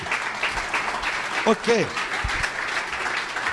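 A church congregation claps briefly during a sermon on the cross, a moderate patter of applause mixed with the preacher's voice and a short spoken word.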